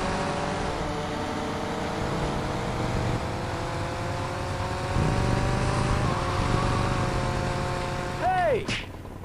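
A motorbike engine in GTA Vice City drones steadily throughout with rising and falling pitch, loud and continuous, ending in a sharp sweeping screech near the end.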